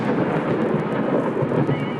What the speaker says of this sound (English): it's raining cats and dogs out there